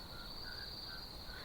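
Crickets chirp in a steady, faint, high trill, with softer intermittent chirps layered beneath it across the short stretch.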